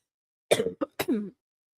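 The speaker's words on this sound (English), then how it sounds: "I need to cough." Three quick coughs in a row, close and fairly loud, the first one longest, then silence.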